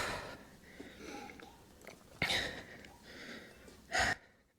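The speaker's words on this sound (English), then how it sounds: "Sorry if I'm breathing really loud into the microphone." Heavy, loud breathing close to the microphone during a bodyweight plank workout, with gasping inhales and sharp exhales in an uneven rhythm over a low background.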